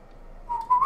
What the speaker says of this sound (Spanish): Que me estés silbando, por favor